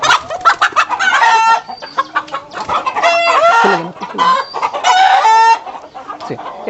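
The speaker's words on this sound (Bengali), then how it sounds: "এটা হয়েছে কোচিং মুরগি সিলভার কালার" A flock of silver Cochin chickens clucking and squawking continuously, with overlapping calls and a distant rooster-like crow, loud and close throughout.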